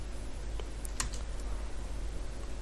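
A few scattered, light keystrokes on a computer keyboard as an ID is typed, faint and close, with gaps between taps over low background hum.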